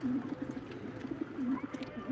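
Pigeons coo softly in repeated low, rounded phrases at a live pigeon auction, a few calls in close succession with faint background noise.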